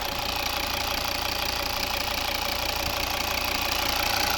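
A 2011 Volvo V60 2.0 D4 diesel engine idles with a steady, even hum and faint knocking, continuous and close with no other sounds.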